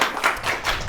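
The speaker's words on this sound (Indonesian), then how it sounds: "coba tepuk tangan yang spesial buat kita semua yang ada di sini" An audience at an evening gathering in a mosque breaks into a short burst of dense clapping, close and fairly loud.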